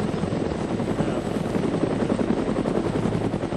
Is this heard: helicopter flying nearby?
yes